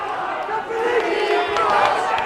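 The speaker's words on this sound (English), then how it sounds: "Crowd trying to get behind Chico." Boxing crowd at a Liverpool fight cheering and shouting behind a tiring boxer late in the bout, a dense roar of many voices with commentary talk over it.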